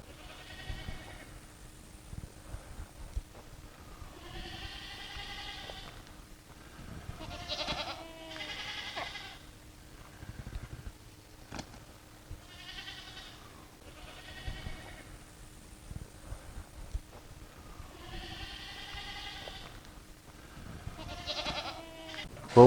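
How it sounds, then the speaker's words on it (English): Kiko goats bleat repeatedly nearby while being loaded into a trailer, several overlapping calls in bursts with pauses between, over faint background shuffling. "the goats that's going to be loaded up in the trailer"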